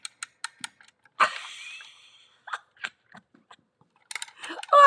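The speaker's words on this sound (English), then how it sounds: "here is a music box that comes with her. But look what I discovered this morning when you wind it up." A small music box is wound up by hand, giving close, crisp ratcheting clicks in short bursts with quiet gaps between them and one longer grinding turn of the mechanism.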